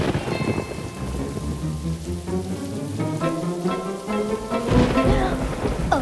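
Thunderstorm with heavy rain, the first rain of the season, pouring steadily with rumbling thunder and a louder crack near the end, a dense continuous wash of sound with no voices.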